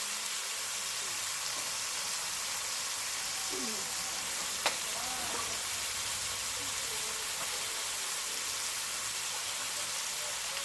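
Chicken frying in a pan for a Bengali chicken kosha, a steady even sizzle that holds throughout, close and moderately loud, with a faint clink partway through and no talking.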